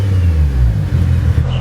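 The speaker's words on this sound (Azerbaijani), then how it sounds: "Biraz qızsın, yüngül qaz verərəm." A warmed-up car engine takes a light blip of throttle, a brief close, low rumbling rev that rises and settles within a second or two.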